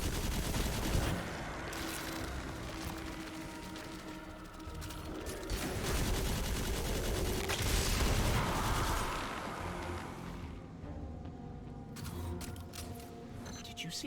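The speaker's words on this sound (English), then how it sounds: "I really like this all machine gun deal that I got going." Sustained automatic weapon fire from the Destiny 2 shooter game rattles continuously and loudly over a dense battle mix of other gunshots and mechanical effects, with a voice speaking briefly amid the din.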